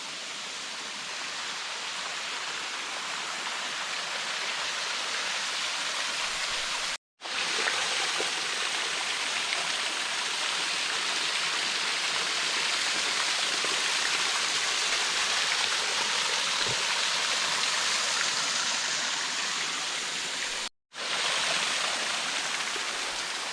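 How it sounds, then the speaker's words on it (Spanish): The Guanga waterfall in Trubia, Asturias, roars as a steady, broad rush of falling water, loud and close, broken by two brief cuts to silence. "por lo menos te puedes meter prácticamente dentro de la cascada"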